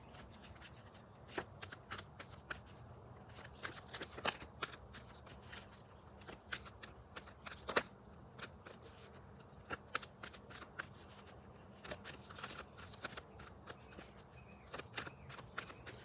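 A tarot card deck being shuffled by hand, giving steady rapid riffling and flicking with frequent sharp card snaps, close and fairly quiet, with no talking.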